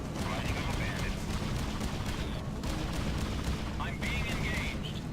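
Missile attack during a space dogfight in the Freelancer video game, dense rumbling weapon fire and explosions running continuously, with a rising whistling tone near the end and a voice speaking under the din.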